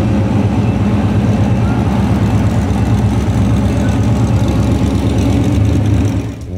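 A loud custom truck engine idles with a deep, steady rumble close by inside an exhibition hall at the Grand National Roadster Show, easing off at the very end.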